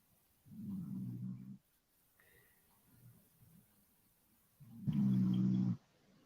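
A man snoring indoors, two heavy, loud low rasping snores separated by a quieter stretch with faint murmuring in between.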